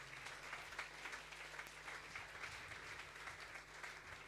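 A church congregation at a Sunday service claps for the Lord in steady, dense applause that stays loud and even throughout, with no voices standing out.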